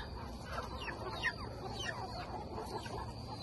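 Chickens huddled in a coop at night give soft, scattered clucks over a steady low background hum, fairly quiet and without any voices.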